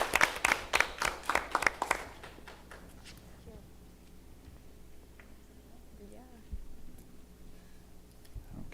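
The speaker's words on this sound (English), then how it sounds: "If we can all give Shannon a round of applause for her efforts over the past 2 years." Brief applause from a small school board meeting audience honoring a departing member, a couple of seconds of scattered clapping that fades into quiet room tone with faint movement.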